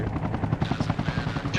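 Rapid rhythmic rotor thumping from an enemy helicopter in a video game, loud and continuous across a short stretch, with no talk.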